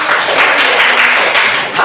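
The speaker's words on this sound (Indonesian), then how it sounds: "Tepuk tangannya dong" An audience claps steadily at a teachers' positive-culture dissemination session, a dense, continuous patter of many hands with slight surges, close and loud throughout.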